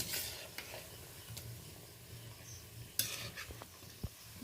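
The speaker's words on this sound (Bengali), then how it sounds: "এইভাবে হালকা হালকাভাবে আমি চারদিক নেড়ে নেড়ে ভেজে নিচ্ছি" Gaja sweet dough pieces fry in oil while being stirred, giving a soft steady sizzle with occasional light scraping and clinks of the utensil against the pan.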